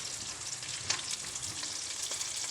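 Fish and Spam frying in oil in a pan for breakfast, a steady broadband sizzle with faint crackles and occasional spatter pops, heard alone with no talk.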